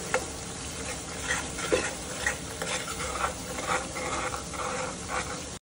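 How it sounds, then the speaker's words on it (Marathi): Red chili powder masala and a little spice mix for dhaba-style palak paneer, stirred steadily in a hot oily pan with a spoon, producing continuous scraping and sizzling close up, with no speech. "छान हलवत ढवळत राहायची, तर जळून जाईल।"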